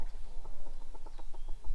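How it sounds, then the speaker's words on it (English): Battery hens cluck in a chicken run at a rural French chateau, a quick run of short rhythmic clucks close by over steady outdoor background noise. "Are you bullying the battery hens again?"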